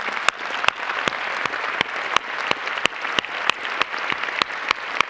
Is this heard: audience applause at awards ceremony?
yes